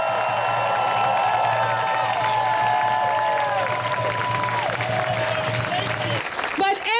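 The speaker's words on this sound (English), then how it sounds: "Give them a round of applause." A large celebrating crowd at a Love Wins marriage equality event in West Hollywood breaks into sustained applause with cheers and whoops, a loud dense wash of clapping that swells and then fades away near the end.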